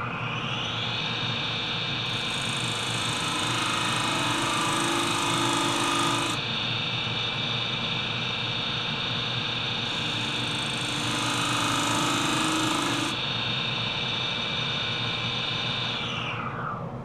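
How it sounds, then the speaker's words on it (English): A detail spindle gouge cuts a shallow tenon on a funneled mesquite bowl spinning on a wood lathe. A steady high machine whine runs throughout, with two stretches of harsher scraping bite from the tool, close and loud. "I'll use a detailed spindle gouge to cut the shallow tenon."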